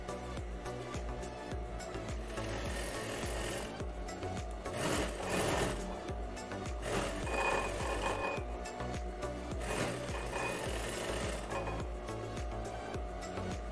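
A sewing machine stitches around a children's shirred dress with elastic thread, running in a steady, close, continuous mechanical whir with slight surges.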